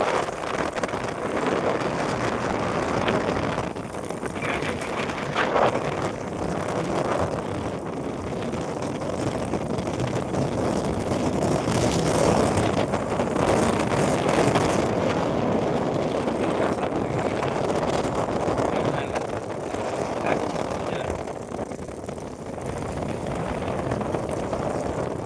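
Strong wind roars steadily into the microphone, broad and gusty, with no break for the whole stretch.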